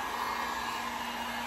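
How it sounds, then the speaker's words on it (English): Steady, loud whooshing roar of a heat gun blowing across a freshly coated DIY coffee bar tray to dry the finish, continuous and close with no voices. "I'm gonna hit it with the heat gun"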